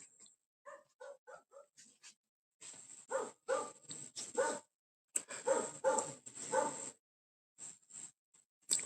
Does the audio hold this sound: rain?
no